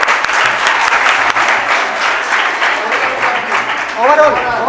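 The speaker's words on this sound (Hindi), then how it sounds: "जोरदार तालियां बजाइए।" Steady, loud applause from a crowd at a Sanskrit youth festival closing ceremony fills the whole stretch, and a voice begins speaking over it near the end.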